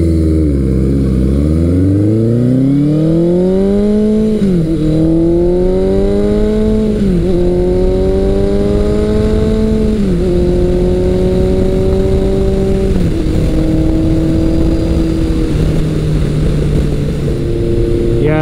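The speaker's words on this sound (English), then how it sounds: "I've got the Delcovic 4-into-1 pipe on this, and it sounds so nice." A classic motorcycle with a Delkevic 4-into-1 exhaust pipe runs close and loud. Its deep, steady engine drone drops and rises in pitch through several shifts and revs.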